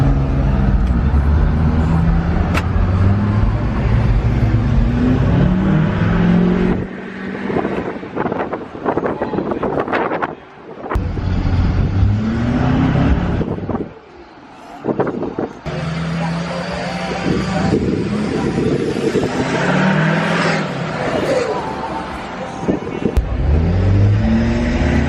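A straight-piped 2012 Duramax LML diesel truck drives past, loud and close, its engine surging and dropping with brief gaps, wind buffeting the microphone throughout.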